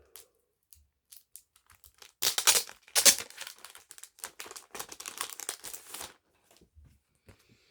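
Art cards featuring Supergirl, Batman and the Flash are pulled from a DC Extended Universe Blu-ray collection's packaging, giving close, dry crinkling and tearing of wrapper material in a dense burst lasting several seconds between quiet taps.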